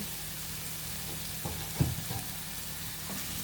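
Fried potatoes sauté in an egg curry masala with spring onions: a soft, low sizzle with a few brief spoon scrapes and taps near the middle.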